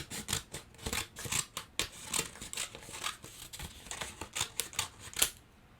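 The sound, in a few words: scissors cutting out the middle of a paper plate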